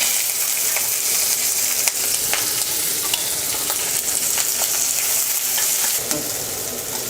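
Onion sautés in hot oil with mustard seeds, urad dal, dried red chillies and curry leaves for beetroot poriyal, giving a dense continuous sizzle broken by scattered stirring clicks.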